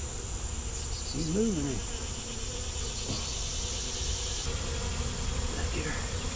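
Honey bees buzzing around a June swarm, a steady insect drone close by with a brief higher whine, while a person talks quietly.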